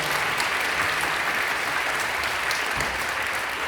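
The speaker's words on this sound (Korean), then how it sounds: "박수 한번 해주세요" A church congregation at a prayer meeting claps together in sustained, dense applause, loud and steady throughout, with no speech over it.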